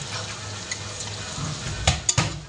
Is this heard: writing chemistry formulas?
no